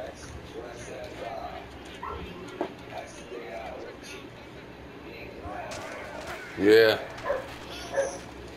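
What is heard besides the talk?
small dogs barking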